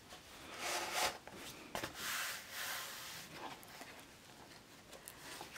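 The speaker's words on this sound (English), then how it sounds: "Open up the front flap and slide it into the pocket." Standard composition notebook, 9¾ by 7½ inches, sliding into the front pocket of a fabric cover with a zipper pouch, giving soft rubbing and scraping swishes in several short bursts, close and fairly quiet, with no talking.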